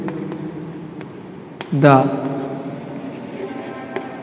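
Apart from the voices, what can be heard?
writing on a board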